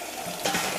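Water is poured into a pan for roasting a Thanksgiving turkey, a short, soft splashing pour.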